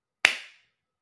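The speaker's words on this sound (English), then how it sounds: "we're gonna do a little clap" A single sharp hand clap, close and loud, with a short ringing decay into silence.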